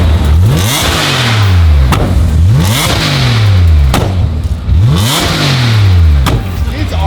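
Ferrari engine revved hard in repeated bursts, roughly three cycles of rising and falling pitch with sharp pops and crackles from flames, loud and close throughout.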